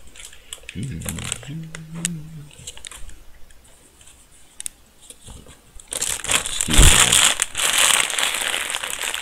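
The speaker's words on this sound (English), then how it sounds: "plastic bag scratching there" A plastic bag crinkles and scratches in crackly bursts, loudest toward the end, heard close up while a person talks, with video game sounds in the background.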